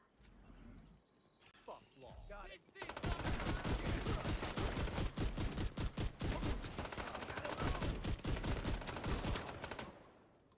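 Sustained rapid gunfire in The Division 2, a long run of sharp, closely spaced shots after a quieter opening with a voice, firing nearly continuously and fairly loud until it tails off at the end.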